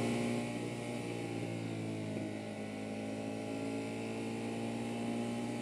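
Steady drone of a Ducati Monster 1200S motorcycle engine held at speed in sport mode, a continuous loud rumble with wind noise and no clear rise in pitch.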